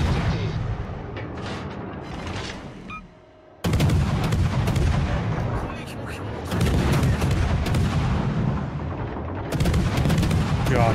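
Naval guns fire shells in a video game: heavy, loud booming blasts roll on almost continuously, with a brief lull before the barrage resumes in dense, overlapping rumbles.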